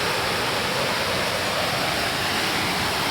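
A cold waterfall pours in a steady, even roar of broadband rushing water, close and constant with no voices.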